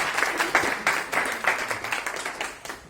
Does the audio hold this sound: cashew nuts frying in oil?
no